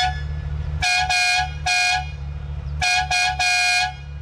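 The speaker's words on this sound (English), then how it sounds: "the horn, operated with these little buttons on the side of the steering wheel. You press it and it sounds ridiculous." A Ferrari F355 Spider's horn, pressed by buttons on the steering wheel, blares in short bright bursts: three separate honks, then three more in quicker succession, loud and close over a low idling engine.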